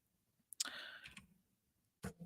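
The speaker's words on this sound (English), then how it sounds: "I don't know what happened to my typing because my mic is right in the way" Brief burst of keyboard typing right beside the microphone, a quick run of close, loud clicks followed by a pause and another short tap near the end.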